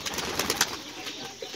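A desi pigeon cooing softly in short repeated throaty notes, close by, with a faint flutter of movement and light background noise.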